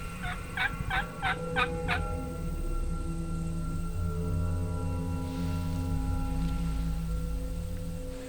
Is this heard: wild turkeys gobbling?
yes